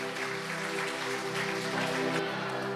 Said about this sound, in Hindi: एक बार जोरदार तालियां प्रभु की महिमा के लिए बजाएंगे